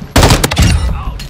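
Rapid gunfire from a hip-fired M13B rifle in Call of Duty MW2, a loud burst of close shots in quick succession that fades over about a second.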